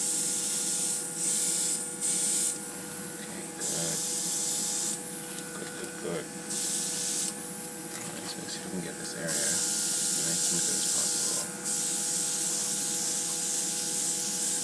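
Spray paint hissing onto a cardboard and masking-tape model in repeated short bursts of a few seconds each, close by, with a steady background hum and someone talking over it.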